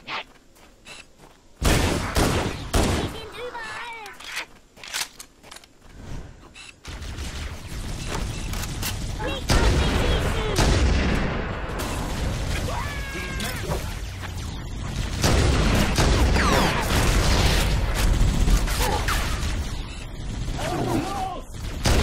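Gunfire bursts and explosions crackle in the video game Halo: Combat Evolved Anniversary, sharp repeated shots and heavy blasts mixed with shouting voices and battle noise, loud and chaotic.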